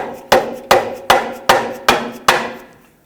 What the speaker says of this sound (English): Stick a pry bar on those and hammer that.